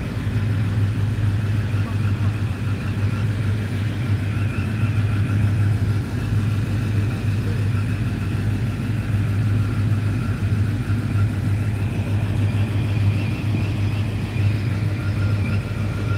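A Dodge Hellcat's engine rumbles in a steady, close idle with light revving throughout, while people talk nearby.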